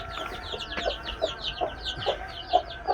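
A mother hen clucks softly and repeatedly, with her chicks' high chirping peeps overlapping throughout, close by and steady.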